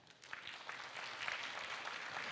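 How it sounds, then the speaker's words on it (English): An audience at a governance and digital transformation symposium gives a warm round of applause, soft dense clapping that swells in and holds steady, somewhat distant and faint. "Please give Mr. Yu a warm round of applause."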